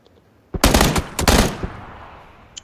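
Gunfire in PUBG: two loud, close bursts of rapid automatic shots in quick succession, each trailing off into a fading echo, with no talking.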